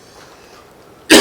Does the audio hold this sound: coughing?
yes